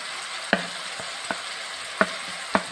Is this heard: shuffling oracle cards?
no